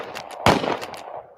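Sharp gunshot sound effect: two loud, abrupt blasts about a second apart, the first trailing off in a rumbling decay.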